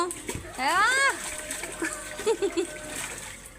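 A child splashing in a small swimming pool, with light water splashes and patters under a voice and an adult talking, close by.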